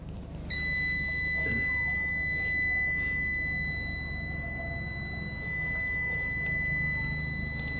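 A continuous high-pitched electronic beep sounds from a 4.2 kW hybrid solar inverter showing an 01 fan error, holding steady for several seconds after a sudden start over a low background hum.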